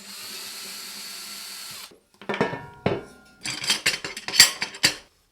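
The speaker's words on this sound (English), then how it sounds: "So I'm going to go get a drill." An electric drill whirs steadily for about two seconds, then stops, followed by clattering metal hardware being handled and dropped at close range.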